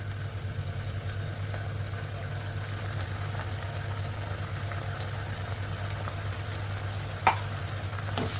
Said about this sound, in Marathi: त्यानंतर आपण टोमॅटो, कांदा आणि मिरची याचे जे वाटण केलेले आहे ते त्यात घालावे.